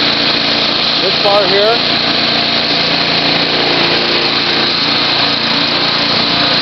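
A Timemaster 30-inch self-propelled walk-behind gas lawn mower runs steadily and loudly close by throughout, with someone briefly talking over the engine drone.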